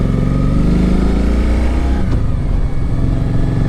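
A 2010 Kawasaki Vulcan Voyager touring motorcycle with a fixed front fairing runs on a test ride, its engine droning steadily and loudly close by, with a slight shift in pitch partway through and no talking.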